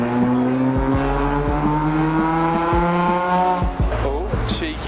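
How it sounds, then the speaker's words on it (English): A Ferrari 488 on the street, its throttle blipped repeatedly, giving loud, close engine revs with sharp rising and falling pitch in quick bursts over a busy outdoor background. "there's a 488 and he's trigger happy with his throttle pedal."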